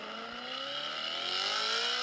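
A BMW E92 M3 engine revs hard and steadily climbing in pitch, a sustained close-up roar with no pauses and no talking.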